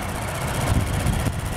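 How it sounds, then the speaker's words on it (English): A 2016 Toyota Tacoma TRD Sport 4x4 engine idles steadily with a low, even rumble and faint rhythmic pulsing, close by and uninterrupted. "engine just purring away like brand new"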